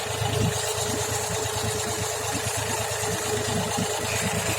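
A mini tractor engine idles steadily at about 1000 rpm, a loud, even, continuous mechanical chug and hum close by, with no voices.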